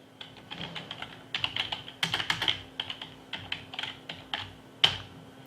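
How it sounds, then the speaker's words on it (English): Keys clatter on a computer keyboard in short uneven bursts of close, crisp clicks, with a sharper tap near the end and no talking. "I will type in the keyword and"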